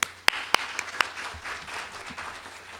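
Applause from an audience welcoming a lecturer to the stage, a few sharp nearby claps at first, then a soft, scattered patter of clapping that slowly thins out.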